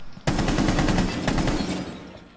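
Gunfire in Tom Clancy's Rainbow Six Siege, a loud sustained burst of rapid automatic shots beginning abruptly after a short quiet moment, close and dense throughout.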